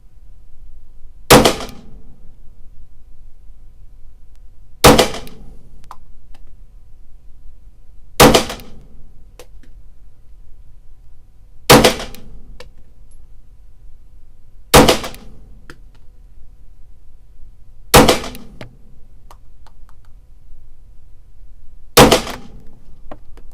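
Seven sharp gunshots from a Stoeger STR9 SC sub-compact 9mm pistol ring out at a steady pace, roughly three to four seconds apart, each loud and crisp with a short decay over a quiet outdoor range.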